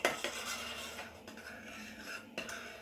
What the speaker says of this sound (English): And we keep stirring.